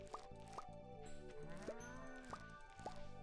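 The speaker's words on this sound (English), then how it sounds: "Oh, cow, you're so loud." A cow in the Stardew Valley farming video game gives repeated short, loud, tonal moos in a quick rhythm, about five calls in a few seconds, alone with no talk.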